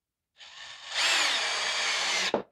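A power drill drives a pocket hole screw into wood in a wood shop: a close, loud, steady whine that builds after a short start, holds for more than a second, then cuts off with a brief thunk.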